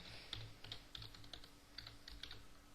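Fingers type an email on a computer keyboard in a quiet room, with a steady run of close, crisp key clicks in small irregular bursts and no voices.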